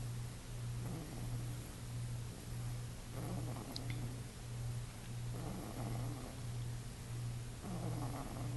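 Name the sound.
pet snoring while asleep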